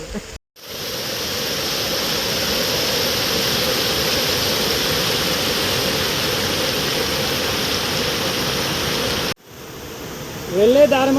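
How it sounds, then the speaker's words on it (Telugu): A waterfall along a jungle trek route near Kalu Falls roars as a steady broadband rush, loud and constant, with brief dropouts near the start and end. "వెళ్ళే దారి మధ్యలో ఒక వాటర్ ఫాల్"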